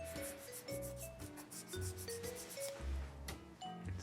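A fine 400–500 grit sanding twig rubs back and forth over a custom Star Wars blaster build, giving quiet, rhythmic scratchy strokes in a repeated close-up pattern, with faint tonal background music underneath.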